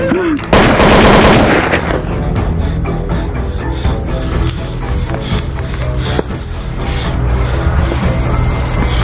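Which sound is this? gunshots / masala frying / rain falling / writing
gunshots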